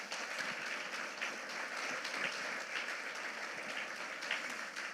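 Faint, steady applause rises from a church congregation clapping for the Lord during an Easter Sunday sermon, heard at a distance with no clear voices.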